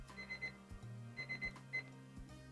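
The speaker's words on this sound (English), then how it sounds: "turn this alarm off" A kitchen timer alarm rings while chicken taquitos finish cooking, sounding as repeated bright electronic beeps in short bursts, fairly close, with soft kitchen clatter underneath.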